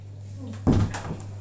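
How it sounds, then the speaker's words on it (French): An interior door is pushed shut with a single sharp thump at about two-thirds of the way through, over a steady low electrical hum in a quiet room. "Ferme la porte et tu toques."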